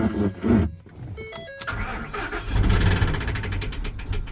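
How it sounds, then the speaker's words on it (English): A Ford F350 pickup truck engine cranks and catches, then settles into a rough, loud run with a knocking undertone from a worn connecting rod, heard up close and without talk. "she's got some rod knock"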